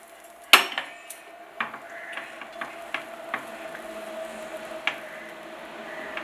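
A metal spoon stirs semolina and water in a cooking pot, with a sharp clank at the start followed by irregular soft scrapes, taps and wet squelches, close and fairly quiet.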